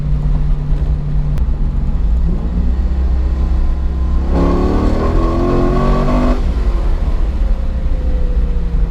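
A Corvette sports car engine drones steadily, then revs up loudly for a couple of seconds and settles back to a continuous rumble.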